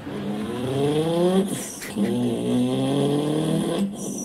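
A turbocharged Toyota Supra with an aftermarket exhaust revs hard: two rising engine pulls, each cut off by a sharp hiss or whoosh, loud and close, with no voices.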